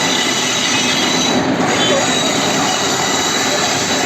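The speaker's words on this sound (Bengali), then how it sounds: "ট্রেনটা মনে হয় এখানে স্লো হবে" A train at a station in Sri Lanka rolls past close by with a loud, steady rumble and a sustained squeal of wheels on rails.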